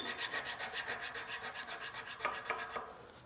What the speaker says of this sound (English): You gotta be real careful to keep that file flat because it kind of wants to rock.